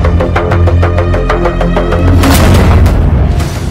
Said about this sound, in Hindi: बम, बारूद और गोलियों की बौछार